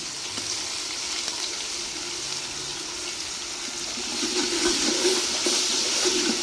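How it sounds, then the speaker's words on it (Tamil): Ground shallot paste fries in a chicken biryani pot with a steady, close sizzle that grows a little louder toward the end, while stirring scrapes and bubbles come through and no one speaks. "நல்லா வதக்கி விட்டுக்கோங்க."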